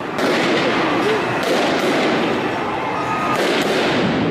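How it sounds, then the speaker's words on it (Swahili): Police fire into the air at a street protest in Nairobi, with several sharp cracks spread over a few seconds above a loud, continuous crowd roar. "walazimu maafisa waliokuwa wakitoa ulinzi kufyatua risasi hewani kuwatawanya"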